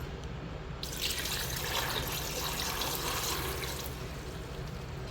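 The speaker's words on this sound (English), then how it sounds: "Pouring some of that vinegar in there." Vinegar poured over rocks sitting in a bowl, a steady, close splashing pour that starts after a brief pause and runs on without a break.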